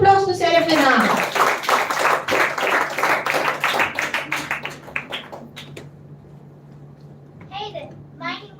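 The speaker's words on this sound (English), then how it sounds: "Can we have a round of applause for Serafina?" Audience applause at a school literature festival, greeting a student performer who has just recited a poem. Clapping starts loud over a voice and thins out over several seconds into scattered claps and quiet.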